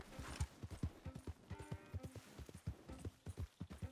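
Horse hooves clip-clop in a steady, rhythmic gait in the video game Red Dead Redemption 2, the crisp individual hoof strikes quiet and fairly close, with no voices over them.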